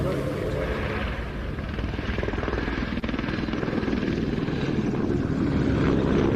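A Royal Navy Merlin Mark II helicopter flies at an air show, its loud, continuous rotor and engine roar filling the whole stretch steadily.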